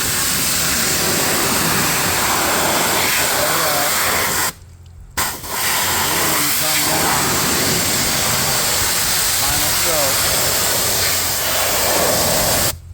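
A pressure washer spraying a car door jamb makes a loud, close, continuous hiss with one short break where the trigger is released, and someone talks faintly under the spray.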